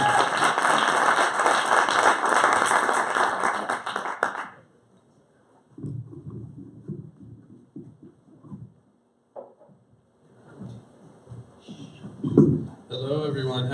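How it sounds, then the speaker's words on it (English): Audience at a tech conference talk applauding, a loud dense burst of clapping that stops abruptly, followed by quieter stretches of talking and movement. "Big round of applause again."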